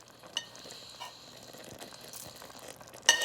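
Shrimp tipped into a hot pot for a Guyanese curry with eddoes, landing with a soft splash and a low sizzle, stirred briefly, then a sharper clatter and fizz right at the end.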